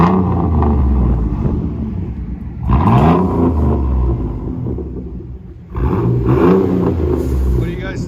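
A Chevy S10 with a 4.3L V6 and its muffler and tailpipe cut off, straight-piped, revs loud and close in two sharp bursts. The rumbling exhaust settles to idle between them.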